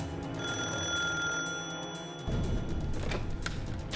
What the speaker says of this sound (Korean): 셔가의 주인 아가칸 4세의 집에 한 통의 전화가 걸려왔다